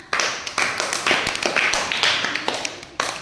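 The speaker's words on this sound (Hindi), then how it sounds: "तालियां बजाना।" Children in a classroom clap together, a dense, quick run of overlapping hand claps in bursts close by, with faint voices in between.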